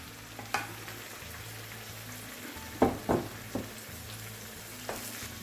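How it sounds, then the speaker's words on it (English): Masala spices hit frying chicken in an Afghani gravy with a steady, close oily sizzle, punctuated by a few sharp clatters and scrapes as the spoon stirs the pan. "now I'm gonna put all this my masala in there"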